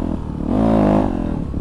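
A motorcycle engine revs up as the rider gets rolling into a wheelie, rising to a strong held pitch and then easing off, loud and close, with no voices.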